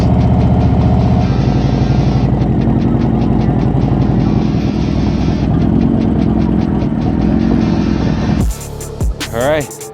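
Harley-Davidson motorcycles idle together at a King of the Baggers race, a loud close engine rumble with a steady throb that cuts out near the end to a burst of other noise.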